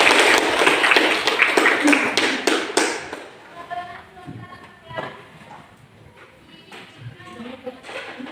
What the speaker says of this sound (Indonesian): Ini tepuk tangan buat kelompok 1